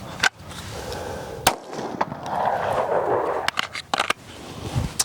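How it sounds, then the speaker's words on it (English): H&K CC9 pistol shots at an outdoor range, several sharp cracks spaced irregularly across a few seconds amid wind and background rumble, fairly loud and close. "If I don't make that first shot, I gotta start over."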